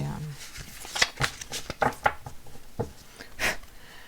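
A deck of tarot cards is shuffled by hand, producing a run of soft, uneven riffling and slapping bursts at close range, with a quiet voice heard faintly underneath.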